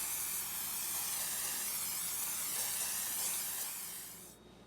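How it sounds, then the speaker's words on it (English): A steady hiss of canola oil spray from a can into a pan while grilling meat for tikka masala, continuous for several seconds before cutting off abruptly. "So you start with spraying some canola oil in the pan."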